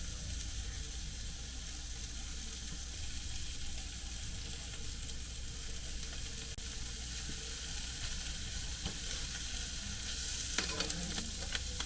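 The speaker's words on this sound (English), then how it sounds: "I'm going to fry up some turkey bacon on the side." Turkey bacon fries in a pan on the side while sausages cook, giving a steady, dense sizzle that stays loud and even throughout, with a few faint clicks near the end and no voices.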